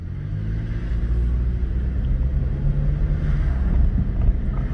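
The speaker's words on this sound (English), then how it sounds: "I'm obviously driving slow because I got all the tools and stuff just around me" Inside a 2001–2005 Honda Civic driving slowly, a low engine and road rumble is heard with steady wind buffeting the microphone. There is no speech.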